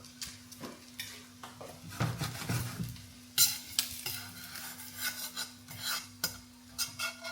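A croissant-perdu cooks in a pan with a soft, steady sizzle, broken by scraping and clinking of a utensil as it is stirred and flipped, close and fairly quiet.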